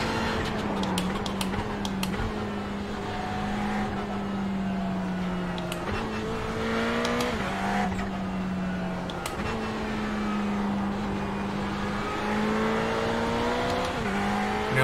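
A Ferrari 488 GT3 race car in the iRacing simulator drones steadily at high revs, its engine note rising through the gears with brief dips at each shift, loud and continuous throughout.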